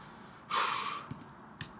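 A person gives a snort-like breath, loud and close, then a couple of quieter short breaths, during a Pokemon Red randomizer playthrough.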